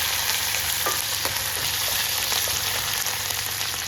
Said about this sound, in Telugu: ఇవి పచ్చిమిర్చి మంచిగా ఫ్రై చేసుకోవాలి.